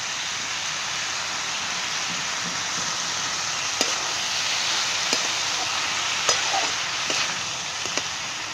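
Onion and tomato frying in a pan for egg bhurji, a steady close sizzle with a few light scrapes and taps of a spoon stirring.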